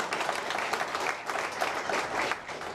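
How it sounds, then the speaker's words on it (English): An enthusiastic crowd in Lexington applauds a political candidate, dense continuous clapping at moderate distance, steady and unbroken throughout. "Lexington provided an enthusiastic crowd for the candidate."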